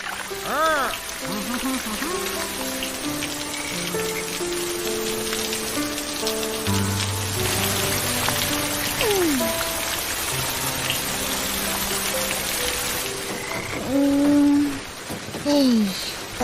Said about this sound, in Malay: Boleh pula hujan lebat tak berhenti-henti